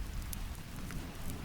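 Soft, steady rain falls in a continuous even patter on an evening walk home, with occasional distinct drops against the dense hiss.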